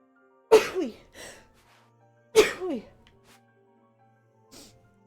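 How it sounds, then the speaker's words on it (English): Two loud, abrupt sneezes close by, a couple of seconds apart, each trailing into a short breathy exhale, followed by a faint sniff. "I'm gonna sneeze in a moment"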